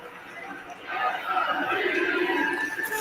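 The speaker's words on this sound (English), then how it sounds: "Crowd chanting for Didi." A baseball crowd at a New York Mets versus Philadelphia Phillies game chants for Didi, a swelling distant mass of voices that rises after the first second and holds steady.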